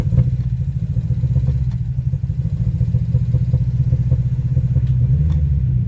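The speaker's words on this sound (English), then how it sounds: "Now she's idling just fine." A car engine with sticky valves idles steadily up close, a low rumbling drone with faint ticking and clatter running through it, no voices.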